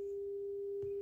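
A steady pure 400 Hz test tone plays through a Spatial Audio M2 Turbo SE open baffle speaker during an impedance sweep, holding constant for about a second before a short click at the end.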